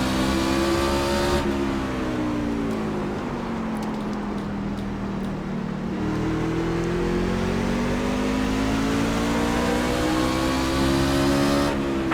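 A race truck engine roars steadily at Martinsville in iRacing, loud and close, with a continuous high drone and rising and falling revs as the truck laps the short track, and no talking.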